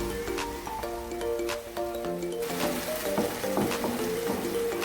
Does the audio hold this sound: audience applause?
no